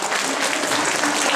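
Conference audience breaks into dense, even applause that holds steady from start to finish, loud and close, with a murmur of voices in the room.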